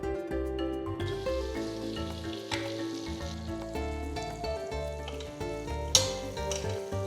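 A tablespoon each of butter and oil sizzle in a wide pan, a steady hiss under a continuous musical backdrop, with a sharp clatter near the end.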